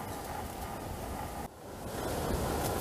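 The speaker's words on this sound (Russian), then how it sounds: "Когда такой ветер, что того и гляди, унесет вместе с палаткой" Strong wind gusting over the Voronezh river during a kayak trip, a loud continuous roar buffeting the microphone with surging water noise, briefly dipping midway then building again, no voices.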